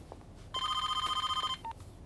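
A telephone rings with one sustained electronic trill of about a second, then a short second chirp, loud and close in an otherwise quiet room, with no talking over it.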